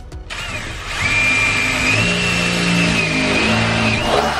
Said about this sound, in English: And then he drills a hole in the corners to make it easier to cut.